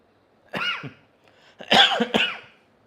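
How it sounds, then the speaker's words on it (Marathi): Three short, dry coughs close to the microphone: a single cough followed by a quick pair, with brief silence between them. "सॉरी थोडासा खोकला आहे"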